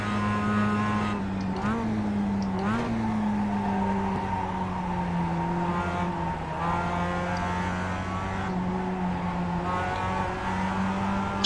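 Mazda MX-5 race car engine from iRacing at Lime Rock Park, a steady droning hum with rising and falling pitch sweeps as it revs and shifts, continuous and fairly loud throughout.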